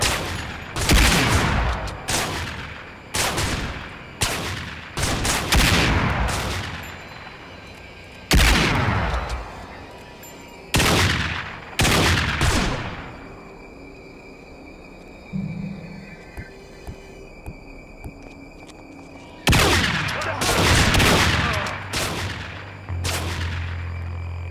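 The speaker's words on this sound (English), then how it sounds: "how's he shooting me through the railing, bro?" Police gunfire in Manhunt, loud bursts of shots in clustered volleys separated by short gaps, some sharp and close, a few fainter pops in a quieter middle stretch, then heavy firing again; no talking.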